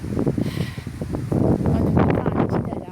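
Wind blowing by a lake on a sunny day after rain, a steady broadband rush buffeting the microphone throughout, with low rumbling gusts and no speech.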